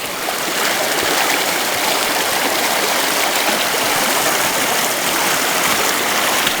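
Mountain creek at McGee Creek in the Tulameen rushes over large boulders in a steady, loud, broadband roar of flowing water, close by and continuous with no voices.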